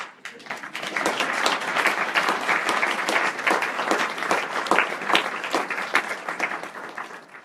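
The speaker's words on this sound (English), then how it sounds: "I'd like us to have a round of applause" Sustained applause from a gala audience runs throughout, many hands clapping in a dense, steady wash that stays fairly even and then tapers slightly at the end.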